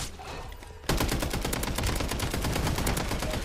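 Rapid, sustained gunfire erupts suddenly after a quieter moment in a video game and continues as a loud, dense string of shots to the end.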